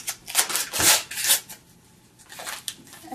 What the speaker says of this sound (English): And then rip open that package of pudding mix